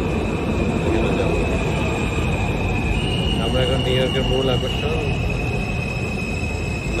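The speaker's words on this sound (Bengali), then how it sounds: "ট্রেন চলে আসছে" A New York subway train arrives at an underground station, with a steady rumble and faint metallic squeals beneath continuous nearby talking.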